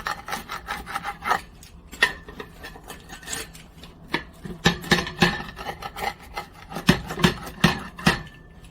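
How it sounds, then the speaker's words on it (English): Repeated scraping and knocking as a heavy pizza stone wobbles against a hard surface while a pepperoni pizza is cut on it, with rasping cuts in an irregular rhythm, close by. "Sorry if that's a little noisy as the stone wobbles."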